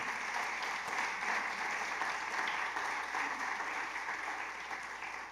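A church congregation applauding during a sermon, a sustained even roll of many hands clapping in a reverberant hall, fairly distant and soft, tapering slightly toward the end.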